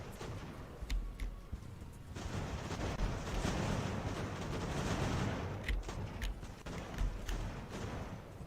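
Cannon fire and artillery from an Age of Sail naval battle game rumble continuously, with sharp musket-like cracks popping out over a dense, distant roar of battle.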